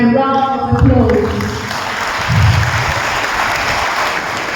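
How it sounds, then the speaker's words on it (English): An audience at a peace festival valedictory program gives an award winner a round of applause, a steady wash of clapping that starts under a closing voice and continues alone. "Please join me in giving him a round of applause."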